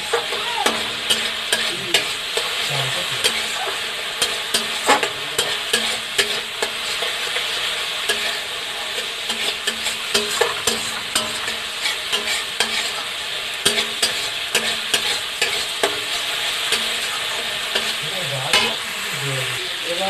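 Spice paste frying and being stirred in a wok of fish oil while cooking a Bengali fish curry, a steady sizzle broken by frequent clanks and scrapes of the spatula, close and continuous with no talking.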